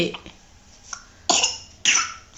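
A little girl coughing at home, a few short soft coughs followed by two louder, harsher bursts close by, each separated by a brief pause.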